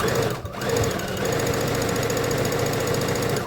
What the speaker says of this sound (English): sew a straight stitch so that we have a casing with that perfect little buttonhole